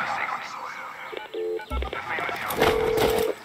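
Phone dialing tones and a brief electronic beep on a call in the video game Far Cry 6, heard alongside game sounds and voices, with a sustained steady tone near the end.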